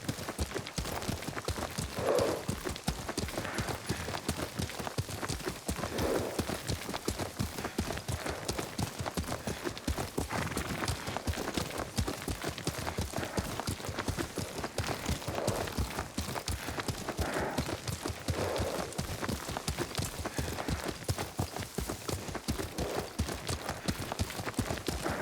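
Horse hooves gallop in a steady, rapid clip-clop rhythm throughout, close and continuous, as a rider travels on horseback in the video game Ghost of Tsushima.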